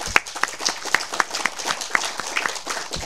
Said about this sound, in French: Je vous demande de bien vouloir l'applaudir